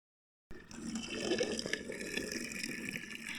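Water pours and splashes into a basin being filled for washing clothes and a blanket, a steady running rush that starts abruptly and continues close by with no talk.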